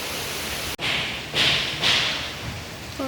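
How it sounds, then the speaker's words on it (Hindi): Steady rain pours down outdoors as an even, dense hiss, with one sharp click and a few brief swelling surges in the downpour. "बारिश देखिए और बारिश की आवाज़ सुनिए।"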